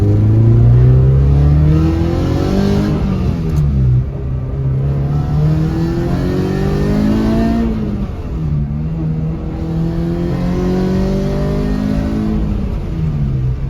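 A Honda Civic with a swapped K24 engine idles while warming up, then revs in repeated rising and falling sweeps, loud and close with no talking.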